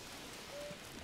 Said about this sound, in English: I can't, because it's ultra raining